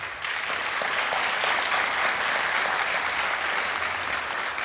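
Sustained applause from a large audience fills the space, a dense steady roar of clapping at even loudness throughout, with no one speaking over it.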